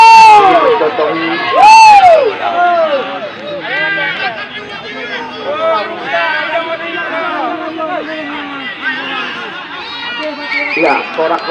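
A large crowd cheers and chatters at a football final, a loud, continuous roar of voices with shouts rising and falling throughout.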